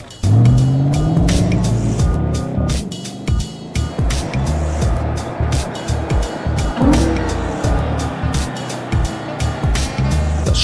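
A 2010 Audi RS5's V8 engine roars and revs up and down through gear changes on a race track, close and loud, with tires squealing at times.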